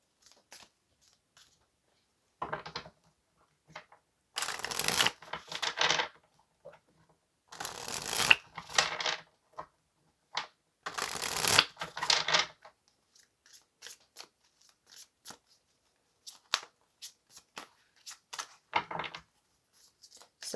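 Tarot cards being shuffled by hand: several separate bursts of crisp riffling and flicking, close and moderately loud, with quiet gaps between them.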